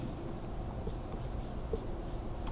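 Geometry notation is written out by hand, probably pen or marker strokes. The faint scratching is partly buried under steady background hiss.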